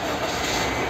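A car engine runs after being started by jump-starting its battery, a steady droning hum with no pauses, fairly quiet and heard alone.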